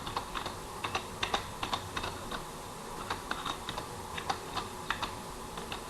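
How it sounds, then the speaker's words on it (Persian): Rapid, irregular clicking of keys on a computer keyboard, close up and fairly quiet, continuing throughout without any voices. "بله، تایپ کردیم activationlicenseful.ir"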